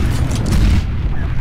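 Gunfire and a grenade explosion in the tactical shooter game CS:GO, a loud continuous rumble of booming low-end blasts that fades toward the end of the short burst.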